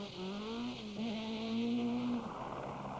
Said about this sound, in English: the driver remains calm, restarts the engine and is away with the minimum of fuss